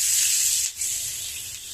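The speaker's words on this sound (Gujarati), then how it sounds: "સરસ રીતે બધું મિક્સ કરી લઈશું." Chopped dry onion stirred into hot oil with asafoetida for a tempering: a close, steady hissing sizzle with a scraping, rubbing texture and a brief dip partway through, no voices.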